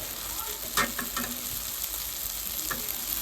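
Chili powder and garam masala sauté in a pan, giving a close, continuous sizzle broken by a few quick scraping stirs of a spoon.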